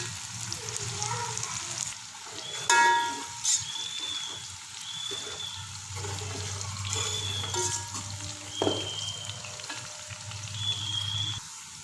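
Onions fry in oil in a pan until golden brown for a chicken qorma gravy, a continuous soft sizzle with occasional stirring scrapes, a few faint tones and low background hum.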